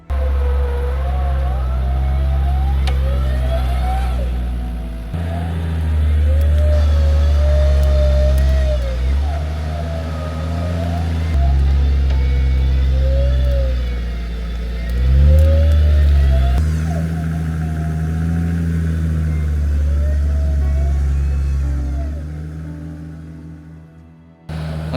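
An off-road vehicle's engine revs and labours up and down as it climbs out of a stuck spot on rough Balkan terrain, loud and close, with repeated surges in pitch over about twenty-five seconds.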